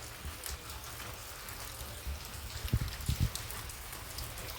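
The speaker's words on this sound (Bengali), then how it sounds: "বৃষ্টি পড়ছে প্রচন্ড" Rain falling steadily with a soft, even patter, plus a few dull low thumps in the middle; fairly quiet, no voices.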